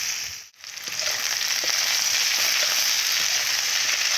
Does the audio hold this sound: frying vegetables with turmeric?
yes